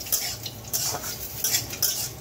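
Cashews, nuts and raisins stirred in hot ghee in a kadai, several scraping stirs in an even rhythm over a faint sizzle, close and clear, with no voices.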